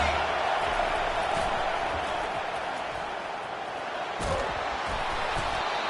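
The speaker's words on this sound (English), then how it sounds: "Listen to this crowd just shaking the girders of this place trying to help their defense" Dense, steady roar of a packed college football stadium crowd, Michigan game, loudly cheering to rally the defense, a continuous wash of noise with a brief swell near the end.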